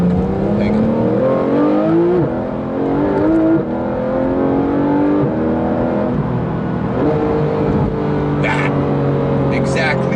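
A Porsche 991 GT3 RS accelerates hard, its engine loud and close, rising in pitch through several gears with brief dips at each shift, and a voice speaks over it near the end.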